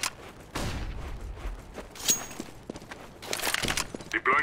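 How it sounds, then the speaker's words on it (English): A flashbang grenade detonates in the shooter game CS:GO. Several sharp bursts go off amid gameplay noise, one followed by a thin high ringing tone, with crackling, shattering texture between them. "Deploying flashbang."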